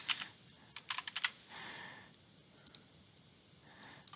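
Someone types login details on a computer keyboard in quick, quiet bursts of clicks separated by brief pauses, with a soft breath partway through, in a still room.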